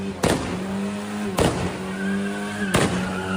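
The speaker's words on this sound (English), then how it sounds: "That's actually a car backfiring multiple times." A car backfires three times at a street protest, sharp loud bangs spaced about a second and a half apart over a steady engine and crowd rumble.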